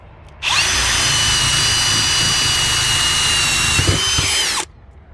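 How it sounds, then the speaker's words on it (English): A power drill whines steadily at high pitch for about four seconds, loud and close, drilling through a metal door for a peephole, then cuts off abruptly. "Just going to go ahead and stick it back in the hole and finish drilling."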